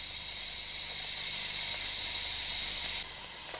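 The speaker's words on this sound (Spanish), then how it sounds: "en cuanto el vapor coja presión, deben comprobarse los inyectores, dejando salir primeramente el agua y a continuación dando paso al vapor" Steam hisses loudly and steadily from a steam locomotive's injector as it is opened, a continuous broad rush that holds for about three seconds before easing slightly at the end.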